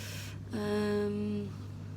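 A single drawn-out meow, close and clear, lasting about a second over a steady low hum.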